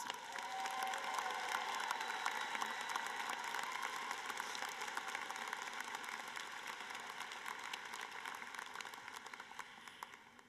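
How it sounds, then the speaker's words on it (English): Graduation audience at a University of Washington School of Law commencement applauds steadily for about ten seconds, a dense, even wash of clapping from a large crowd that holds at the same level throughout. "Let's give you a round of applause"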